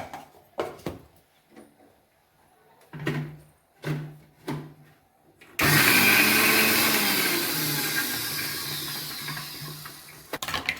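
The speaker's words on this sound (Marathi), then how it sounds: "थोडेसे वाटाणे घ्यायचे आणि मिक्सरला लावून त्यामध्ये टाकूया आपण" An electric mixer grinder whirs loudly and steadily as it grinds soaked, pressure-cooked peas for a pea usal, starting abruptly after a few quiet knocks and sounds and running without a break to the end.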